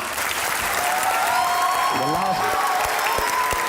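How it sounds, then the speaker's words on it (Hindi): Steady, dense applause from a TV show audience fills the whole stretch, with a few voices and tonal sounds rising briefly over the clapping. "तालियां बजती रहनी चाहिए।"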